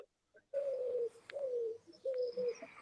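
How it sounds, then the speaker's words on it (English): A pigeon coos nearby during a paranormal investigation, three soft, low, drawn-out coos separated by short pauses in an otherwise quiet space. "can hear a pigeon"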